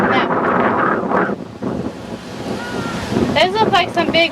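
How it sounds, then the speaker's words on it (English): Big ocean waves rolling onto a beach at St. Martin, a loud continuous surf wash with wind buffeting the microphone, and voices talking over it near the end. "those look like some big waves."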